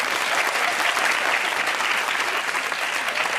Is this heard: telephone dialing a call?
no